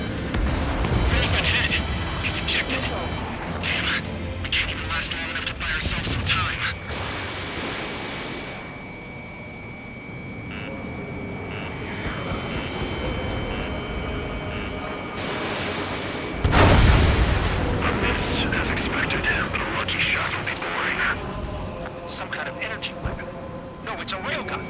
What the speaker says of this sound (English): it's a railgun.